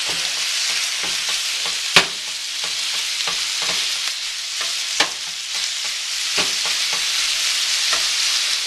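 Chicken pot pie filling being stirred in a pot on the stove: a steady sizzle with repeated scraping and clinking strokes of the spoon, close by, and no one talking.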